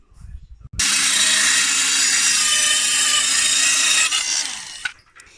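A power saw cuts through a piece of wood for a DIY bird feeder roof, making a loud, continuous whining rasp for about four seconds before it winds down, with a brief clatter just before it starts.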